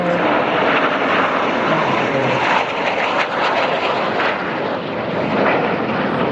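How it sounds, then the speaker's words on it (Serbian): A G-4 Super Galeb jet makes a low flyby at the Batajnica airfield open day, a loud, broad engine roar that fills the air close overhead, swelling slightly midway and holding steady throughout. "I sada možemo vidjeti brišući let aviona G4."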